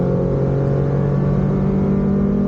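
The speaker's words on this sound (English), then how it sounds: "nothing goes down through the gears like a Speciale" A Ferrari 458 Speciale drives with its engine droning at steady high revs for a couple of seconds, loud and close from inside the cabin, with no talking.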